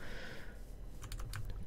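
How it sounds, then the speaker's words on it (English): Computer keyboard keys clatter in quick bursts during a Minecraft survival session, a low steady hum beneath the clicking and no talk over it. "there's always that keyboard clicking in the background of my Minecraft videos"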